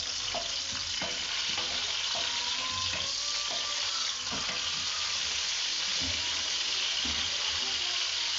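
Garlic and spices frying in a hot pan for a pasta with octopus dish, a steady close sizzle with scattered clinks of stirring and utensil taps throughout.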